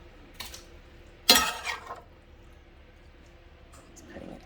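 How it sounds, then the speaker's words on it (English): Browned meat tipped into an Instant Pot for red pozole makes a sharp metallic clatter of utensil against pot, with a few lighter clinks before and a soft squish after, fairly close. "Putting it all into the pot."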